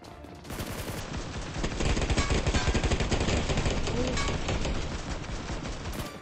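MG3 machine gun in PUBG Mobile firing long, loud, rapid bursts that go on almost without a break.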